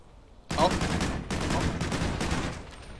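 Gunfire in the multiplayer shooter Call of Duty: Ghosts: after a quiet moment a loud, sustained burst of automatic fire breaks out, with a short gap before it resumes and then fades, close and alone without talk.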